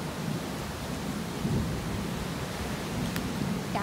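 Heavy rain pours at a beach resort in Batangas, a steady broadband hiss of downpour that is fairly soft and distant, with a few brief louder drips standing out near the end.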